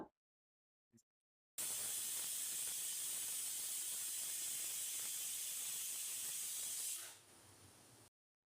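A pressure cooker holding potatoes suddenly releases a loud, steady hiss of steam whistle for several seconds, then drops to a softer hiss before cutting off.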